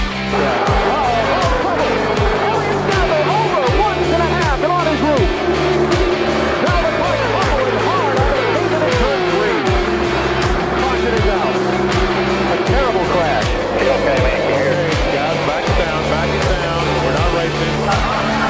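NASCAR race cars roar past on the track after the pace car pulls off to pit road, loud continuous engine noise with repeated passing surges and tire squeal, a commentator's voice mixed in.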